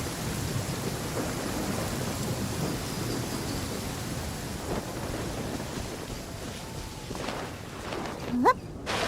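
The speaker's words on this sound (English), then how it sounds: "I hate rain." Steady rain falls with low rumbling thunder in the Genshin Impact video game, a continuous moderately loud wash of noise with a brief sharp sound near the end.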